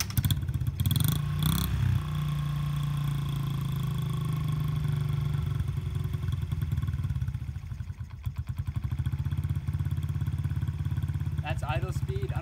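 A 2004 mini motorcycle engine starts with a brief clatter, then settles into a steady low idle that stays loud and close, while a person talks over it.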